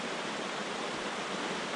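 A forest stream passes on a mountain ATV trail. The rushing water is a dense, steady broadband wash that holds constant and close throughout, with no voices.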